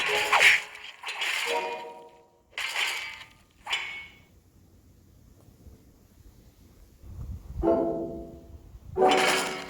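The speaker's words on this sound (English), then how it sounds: "slash attack coming from Hawkmoon" Hawkmoon's slash attack in the mobile puzzle game Empires and Puzzles: several sharp whooshing swipes in quick bursts, separated by short pauses, with a final loud slash at the end.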